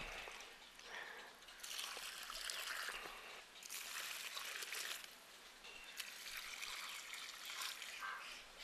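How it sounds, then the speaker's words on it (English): Water poured from a bucket or mug around the base of a newly planted tree, a soft continuous trickling and splashing that swells and eases in several pours across the clip, close by, with no talk. "You can pour it around and that will distribute the water to the roots"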